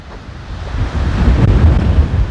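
Strong wind buffets a microphone on Route 66 near Carlinville, a steady low roar that swells louder and gustier partway through, with no voices.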